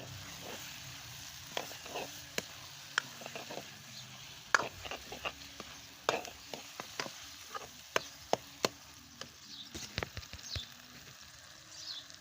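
A spoon stirs carrot and strawberry halwa in a pan as a little grated coconut is mixed in, giving soft, scattered scraping clicks over a faint, steady sizzle.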